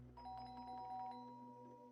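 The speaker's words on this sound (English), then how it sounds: "That's a doorbell." Doorbell chime in the video game Silent Hill: Book of Memories, a clear sustained ding-dong tone ringing out alone over a steady low hum, close and moderately loud.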